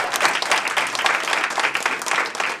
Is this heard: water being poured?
no